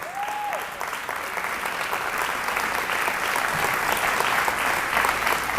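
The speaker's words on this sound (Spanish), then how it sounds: "Venga, dele ese aplauso al Rey." Congregation applause fills a church service, a dense steady wash of many hands clapping throughout, with a brief tonal whistle-like sweep near the start.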